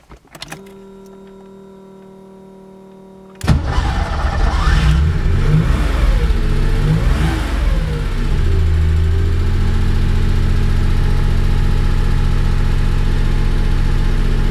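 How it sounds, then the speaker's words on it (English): A car with a CDI ignition system cranks and fires up after a quiet hum, then revs loudly with rising and falling engine pitch before settling into a steady, close idle. "Now we're going to start the car."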